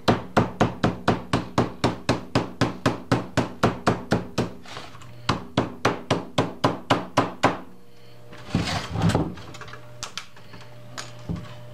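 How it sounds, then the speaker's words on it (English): Rapid, evenly spaced sharp impacts strike a hard surface over and over in a workshop, a steady run of blows that pauses briefly, resumes, then gives way to a few scattered knocks and a rustling clatter near the end. "Nailing something. Nail job."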